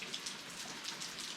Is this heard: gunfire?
no